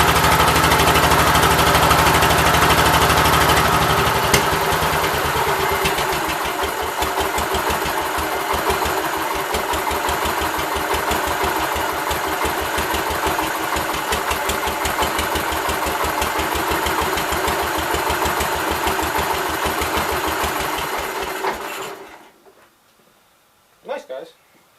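The engine of a 1988 Gravely 12G walk-behind tractor, just repaired after a fuel pump problem, runs at a loud steady idle close by for about twenty-two seconds, then cuts off into near silence, with talking over it.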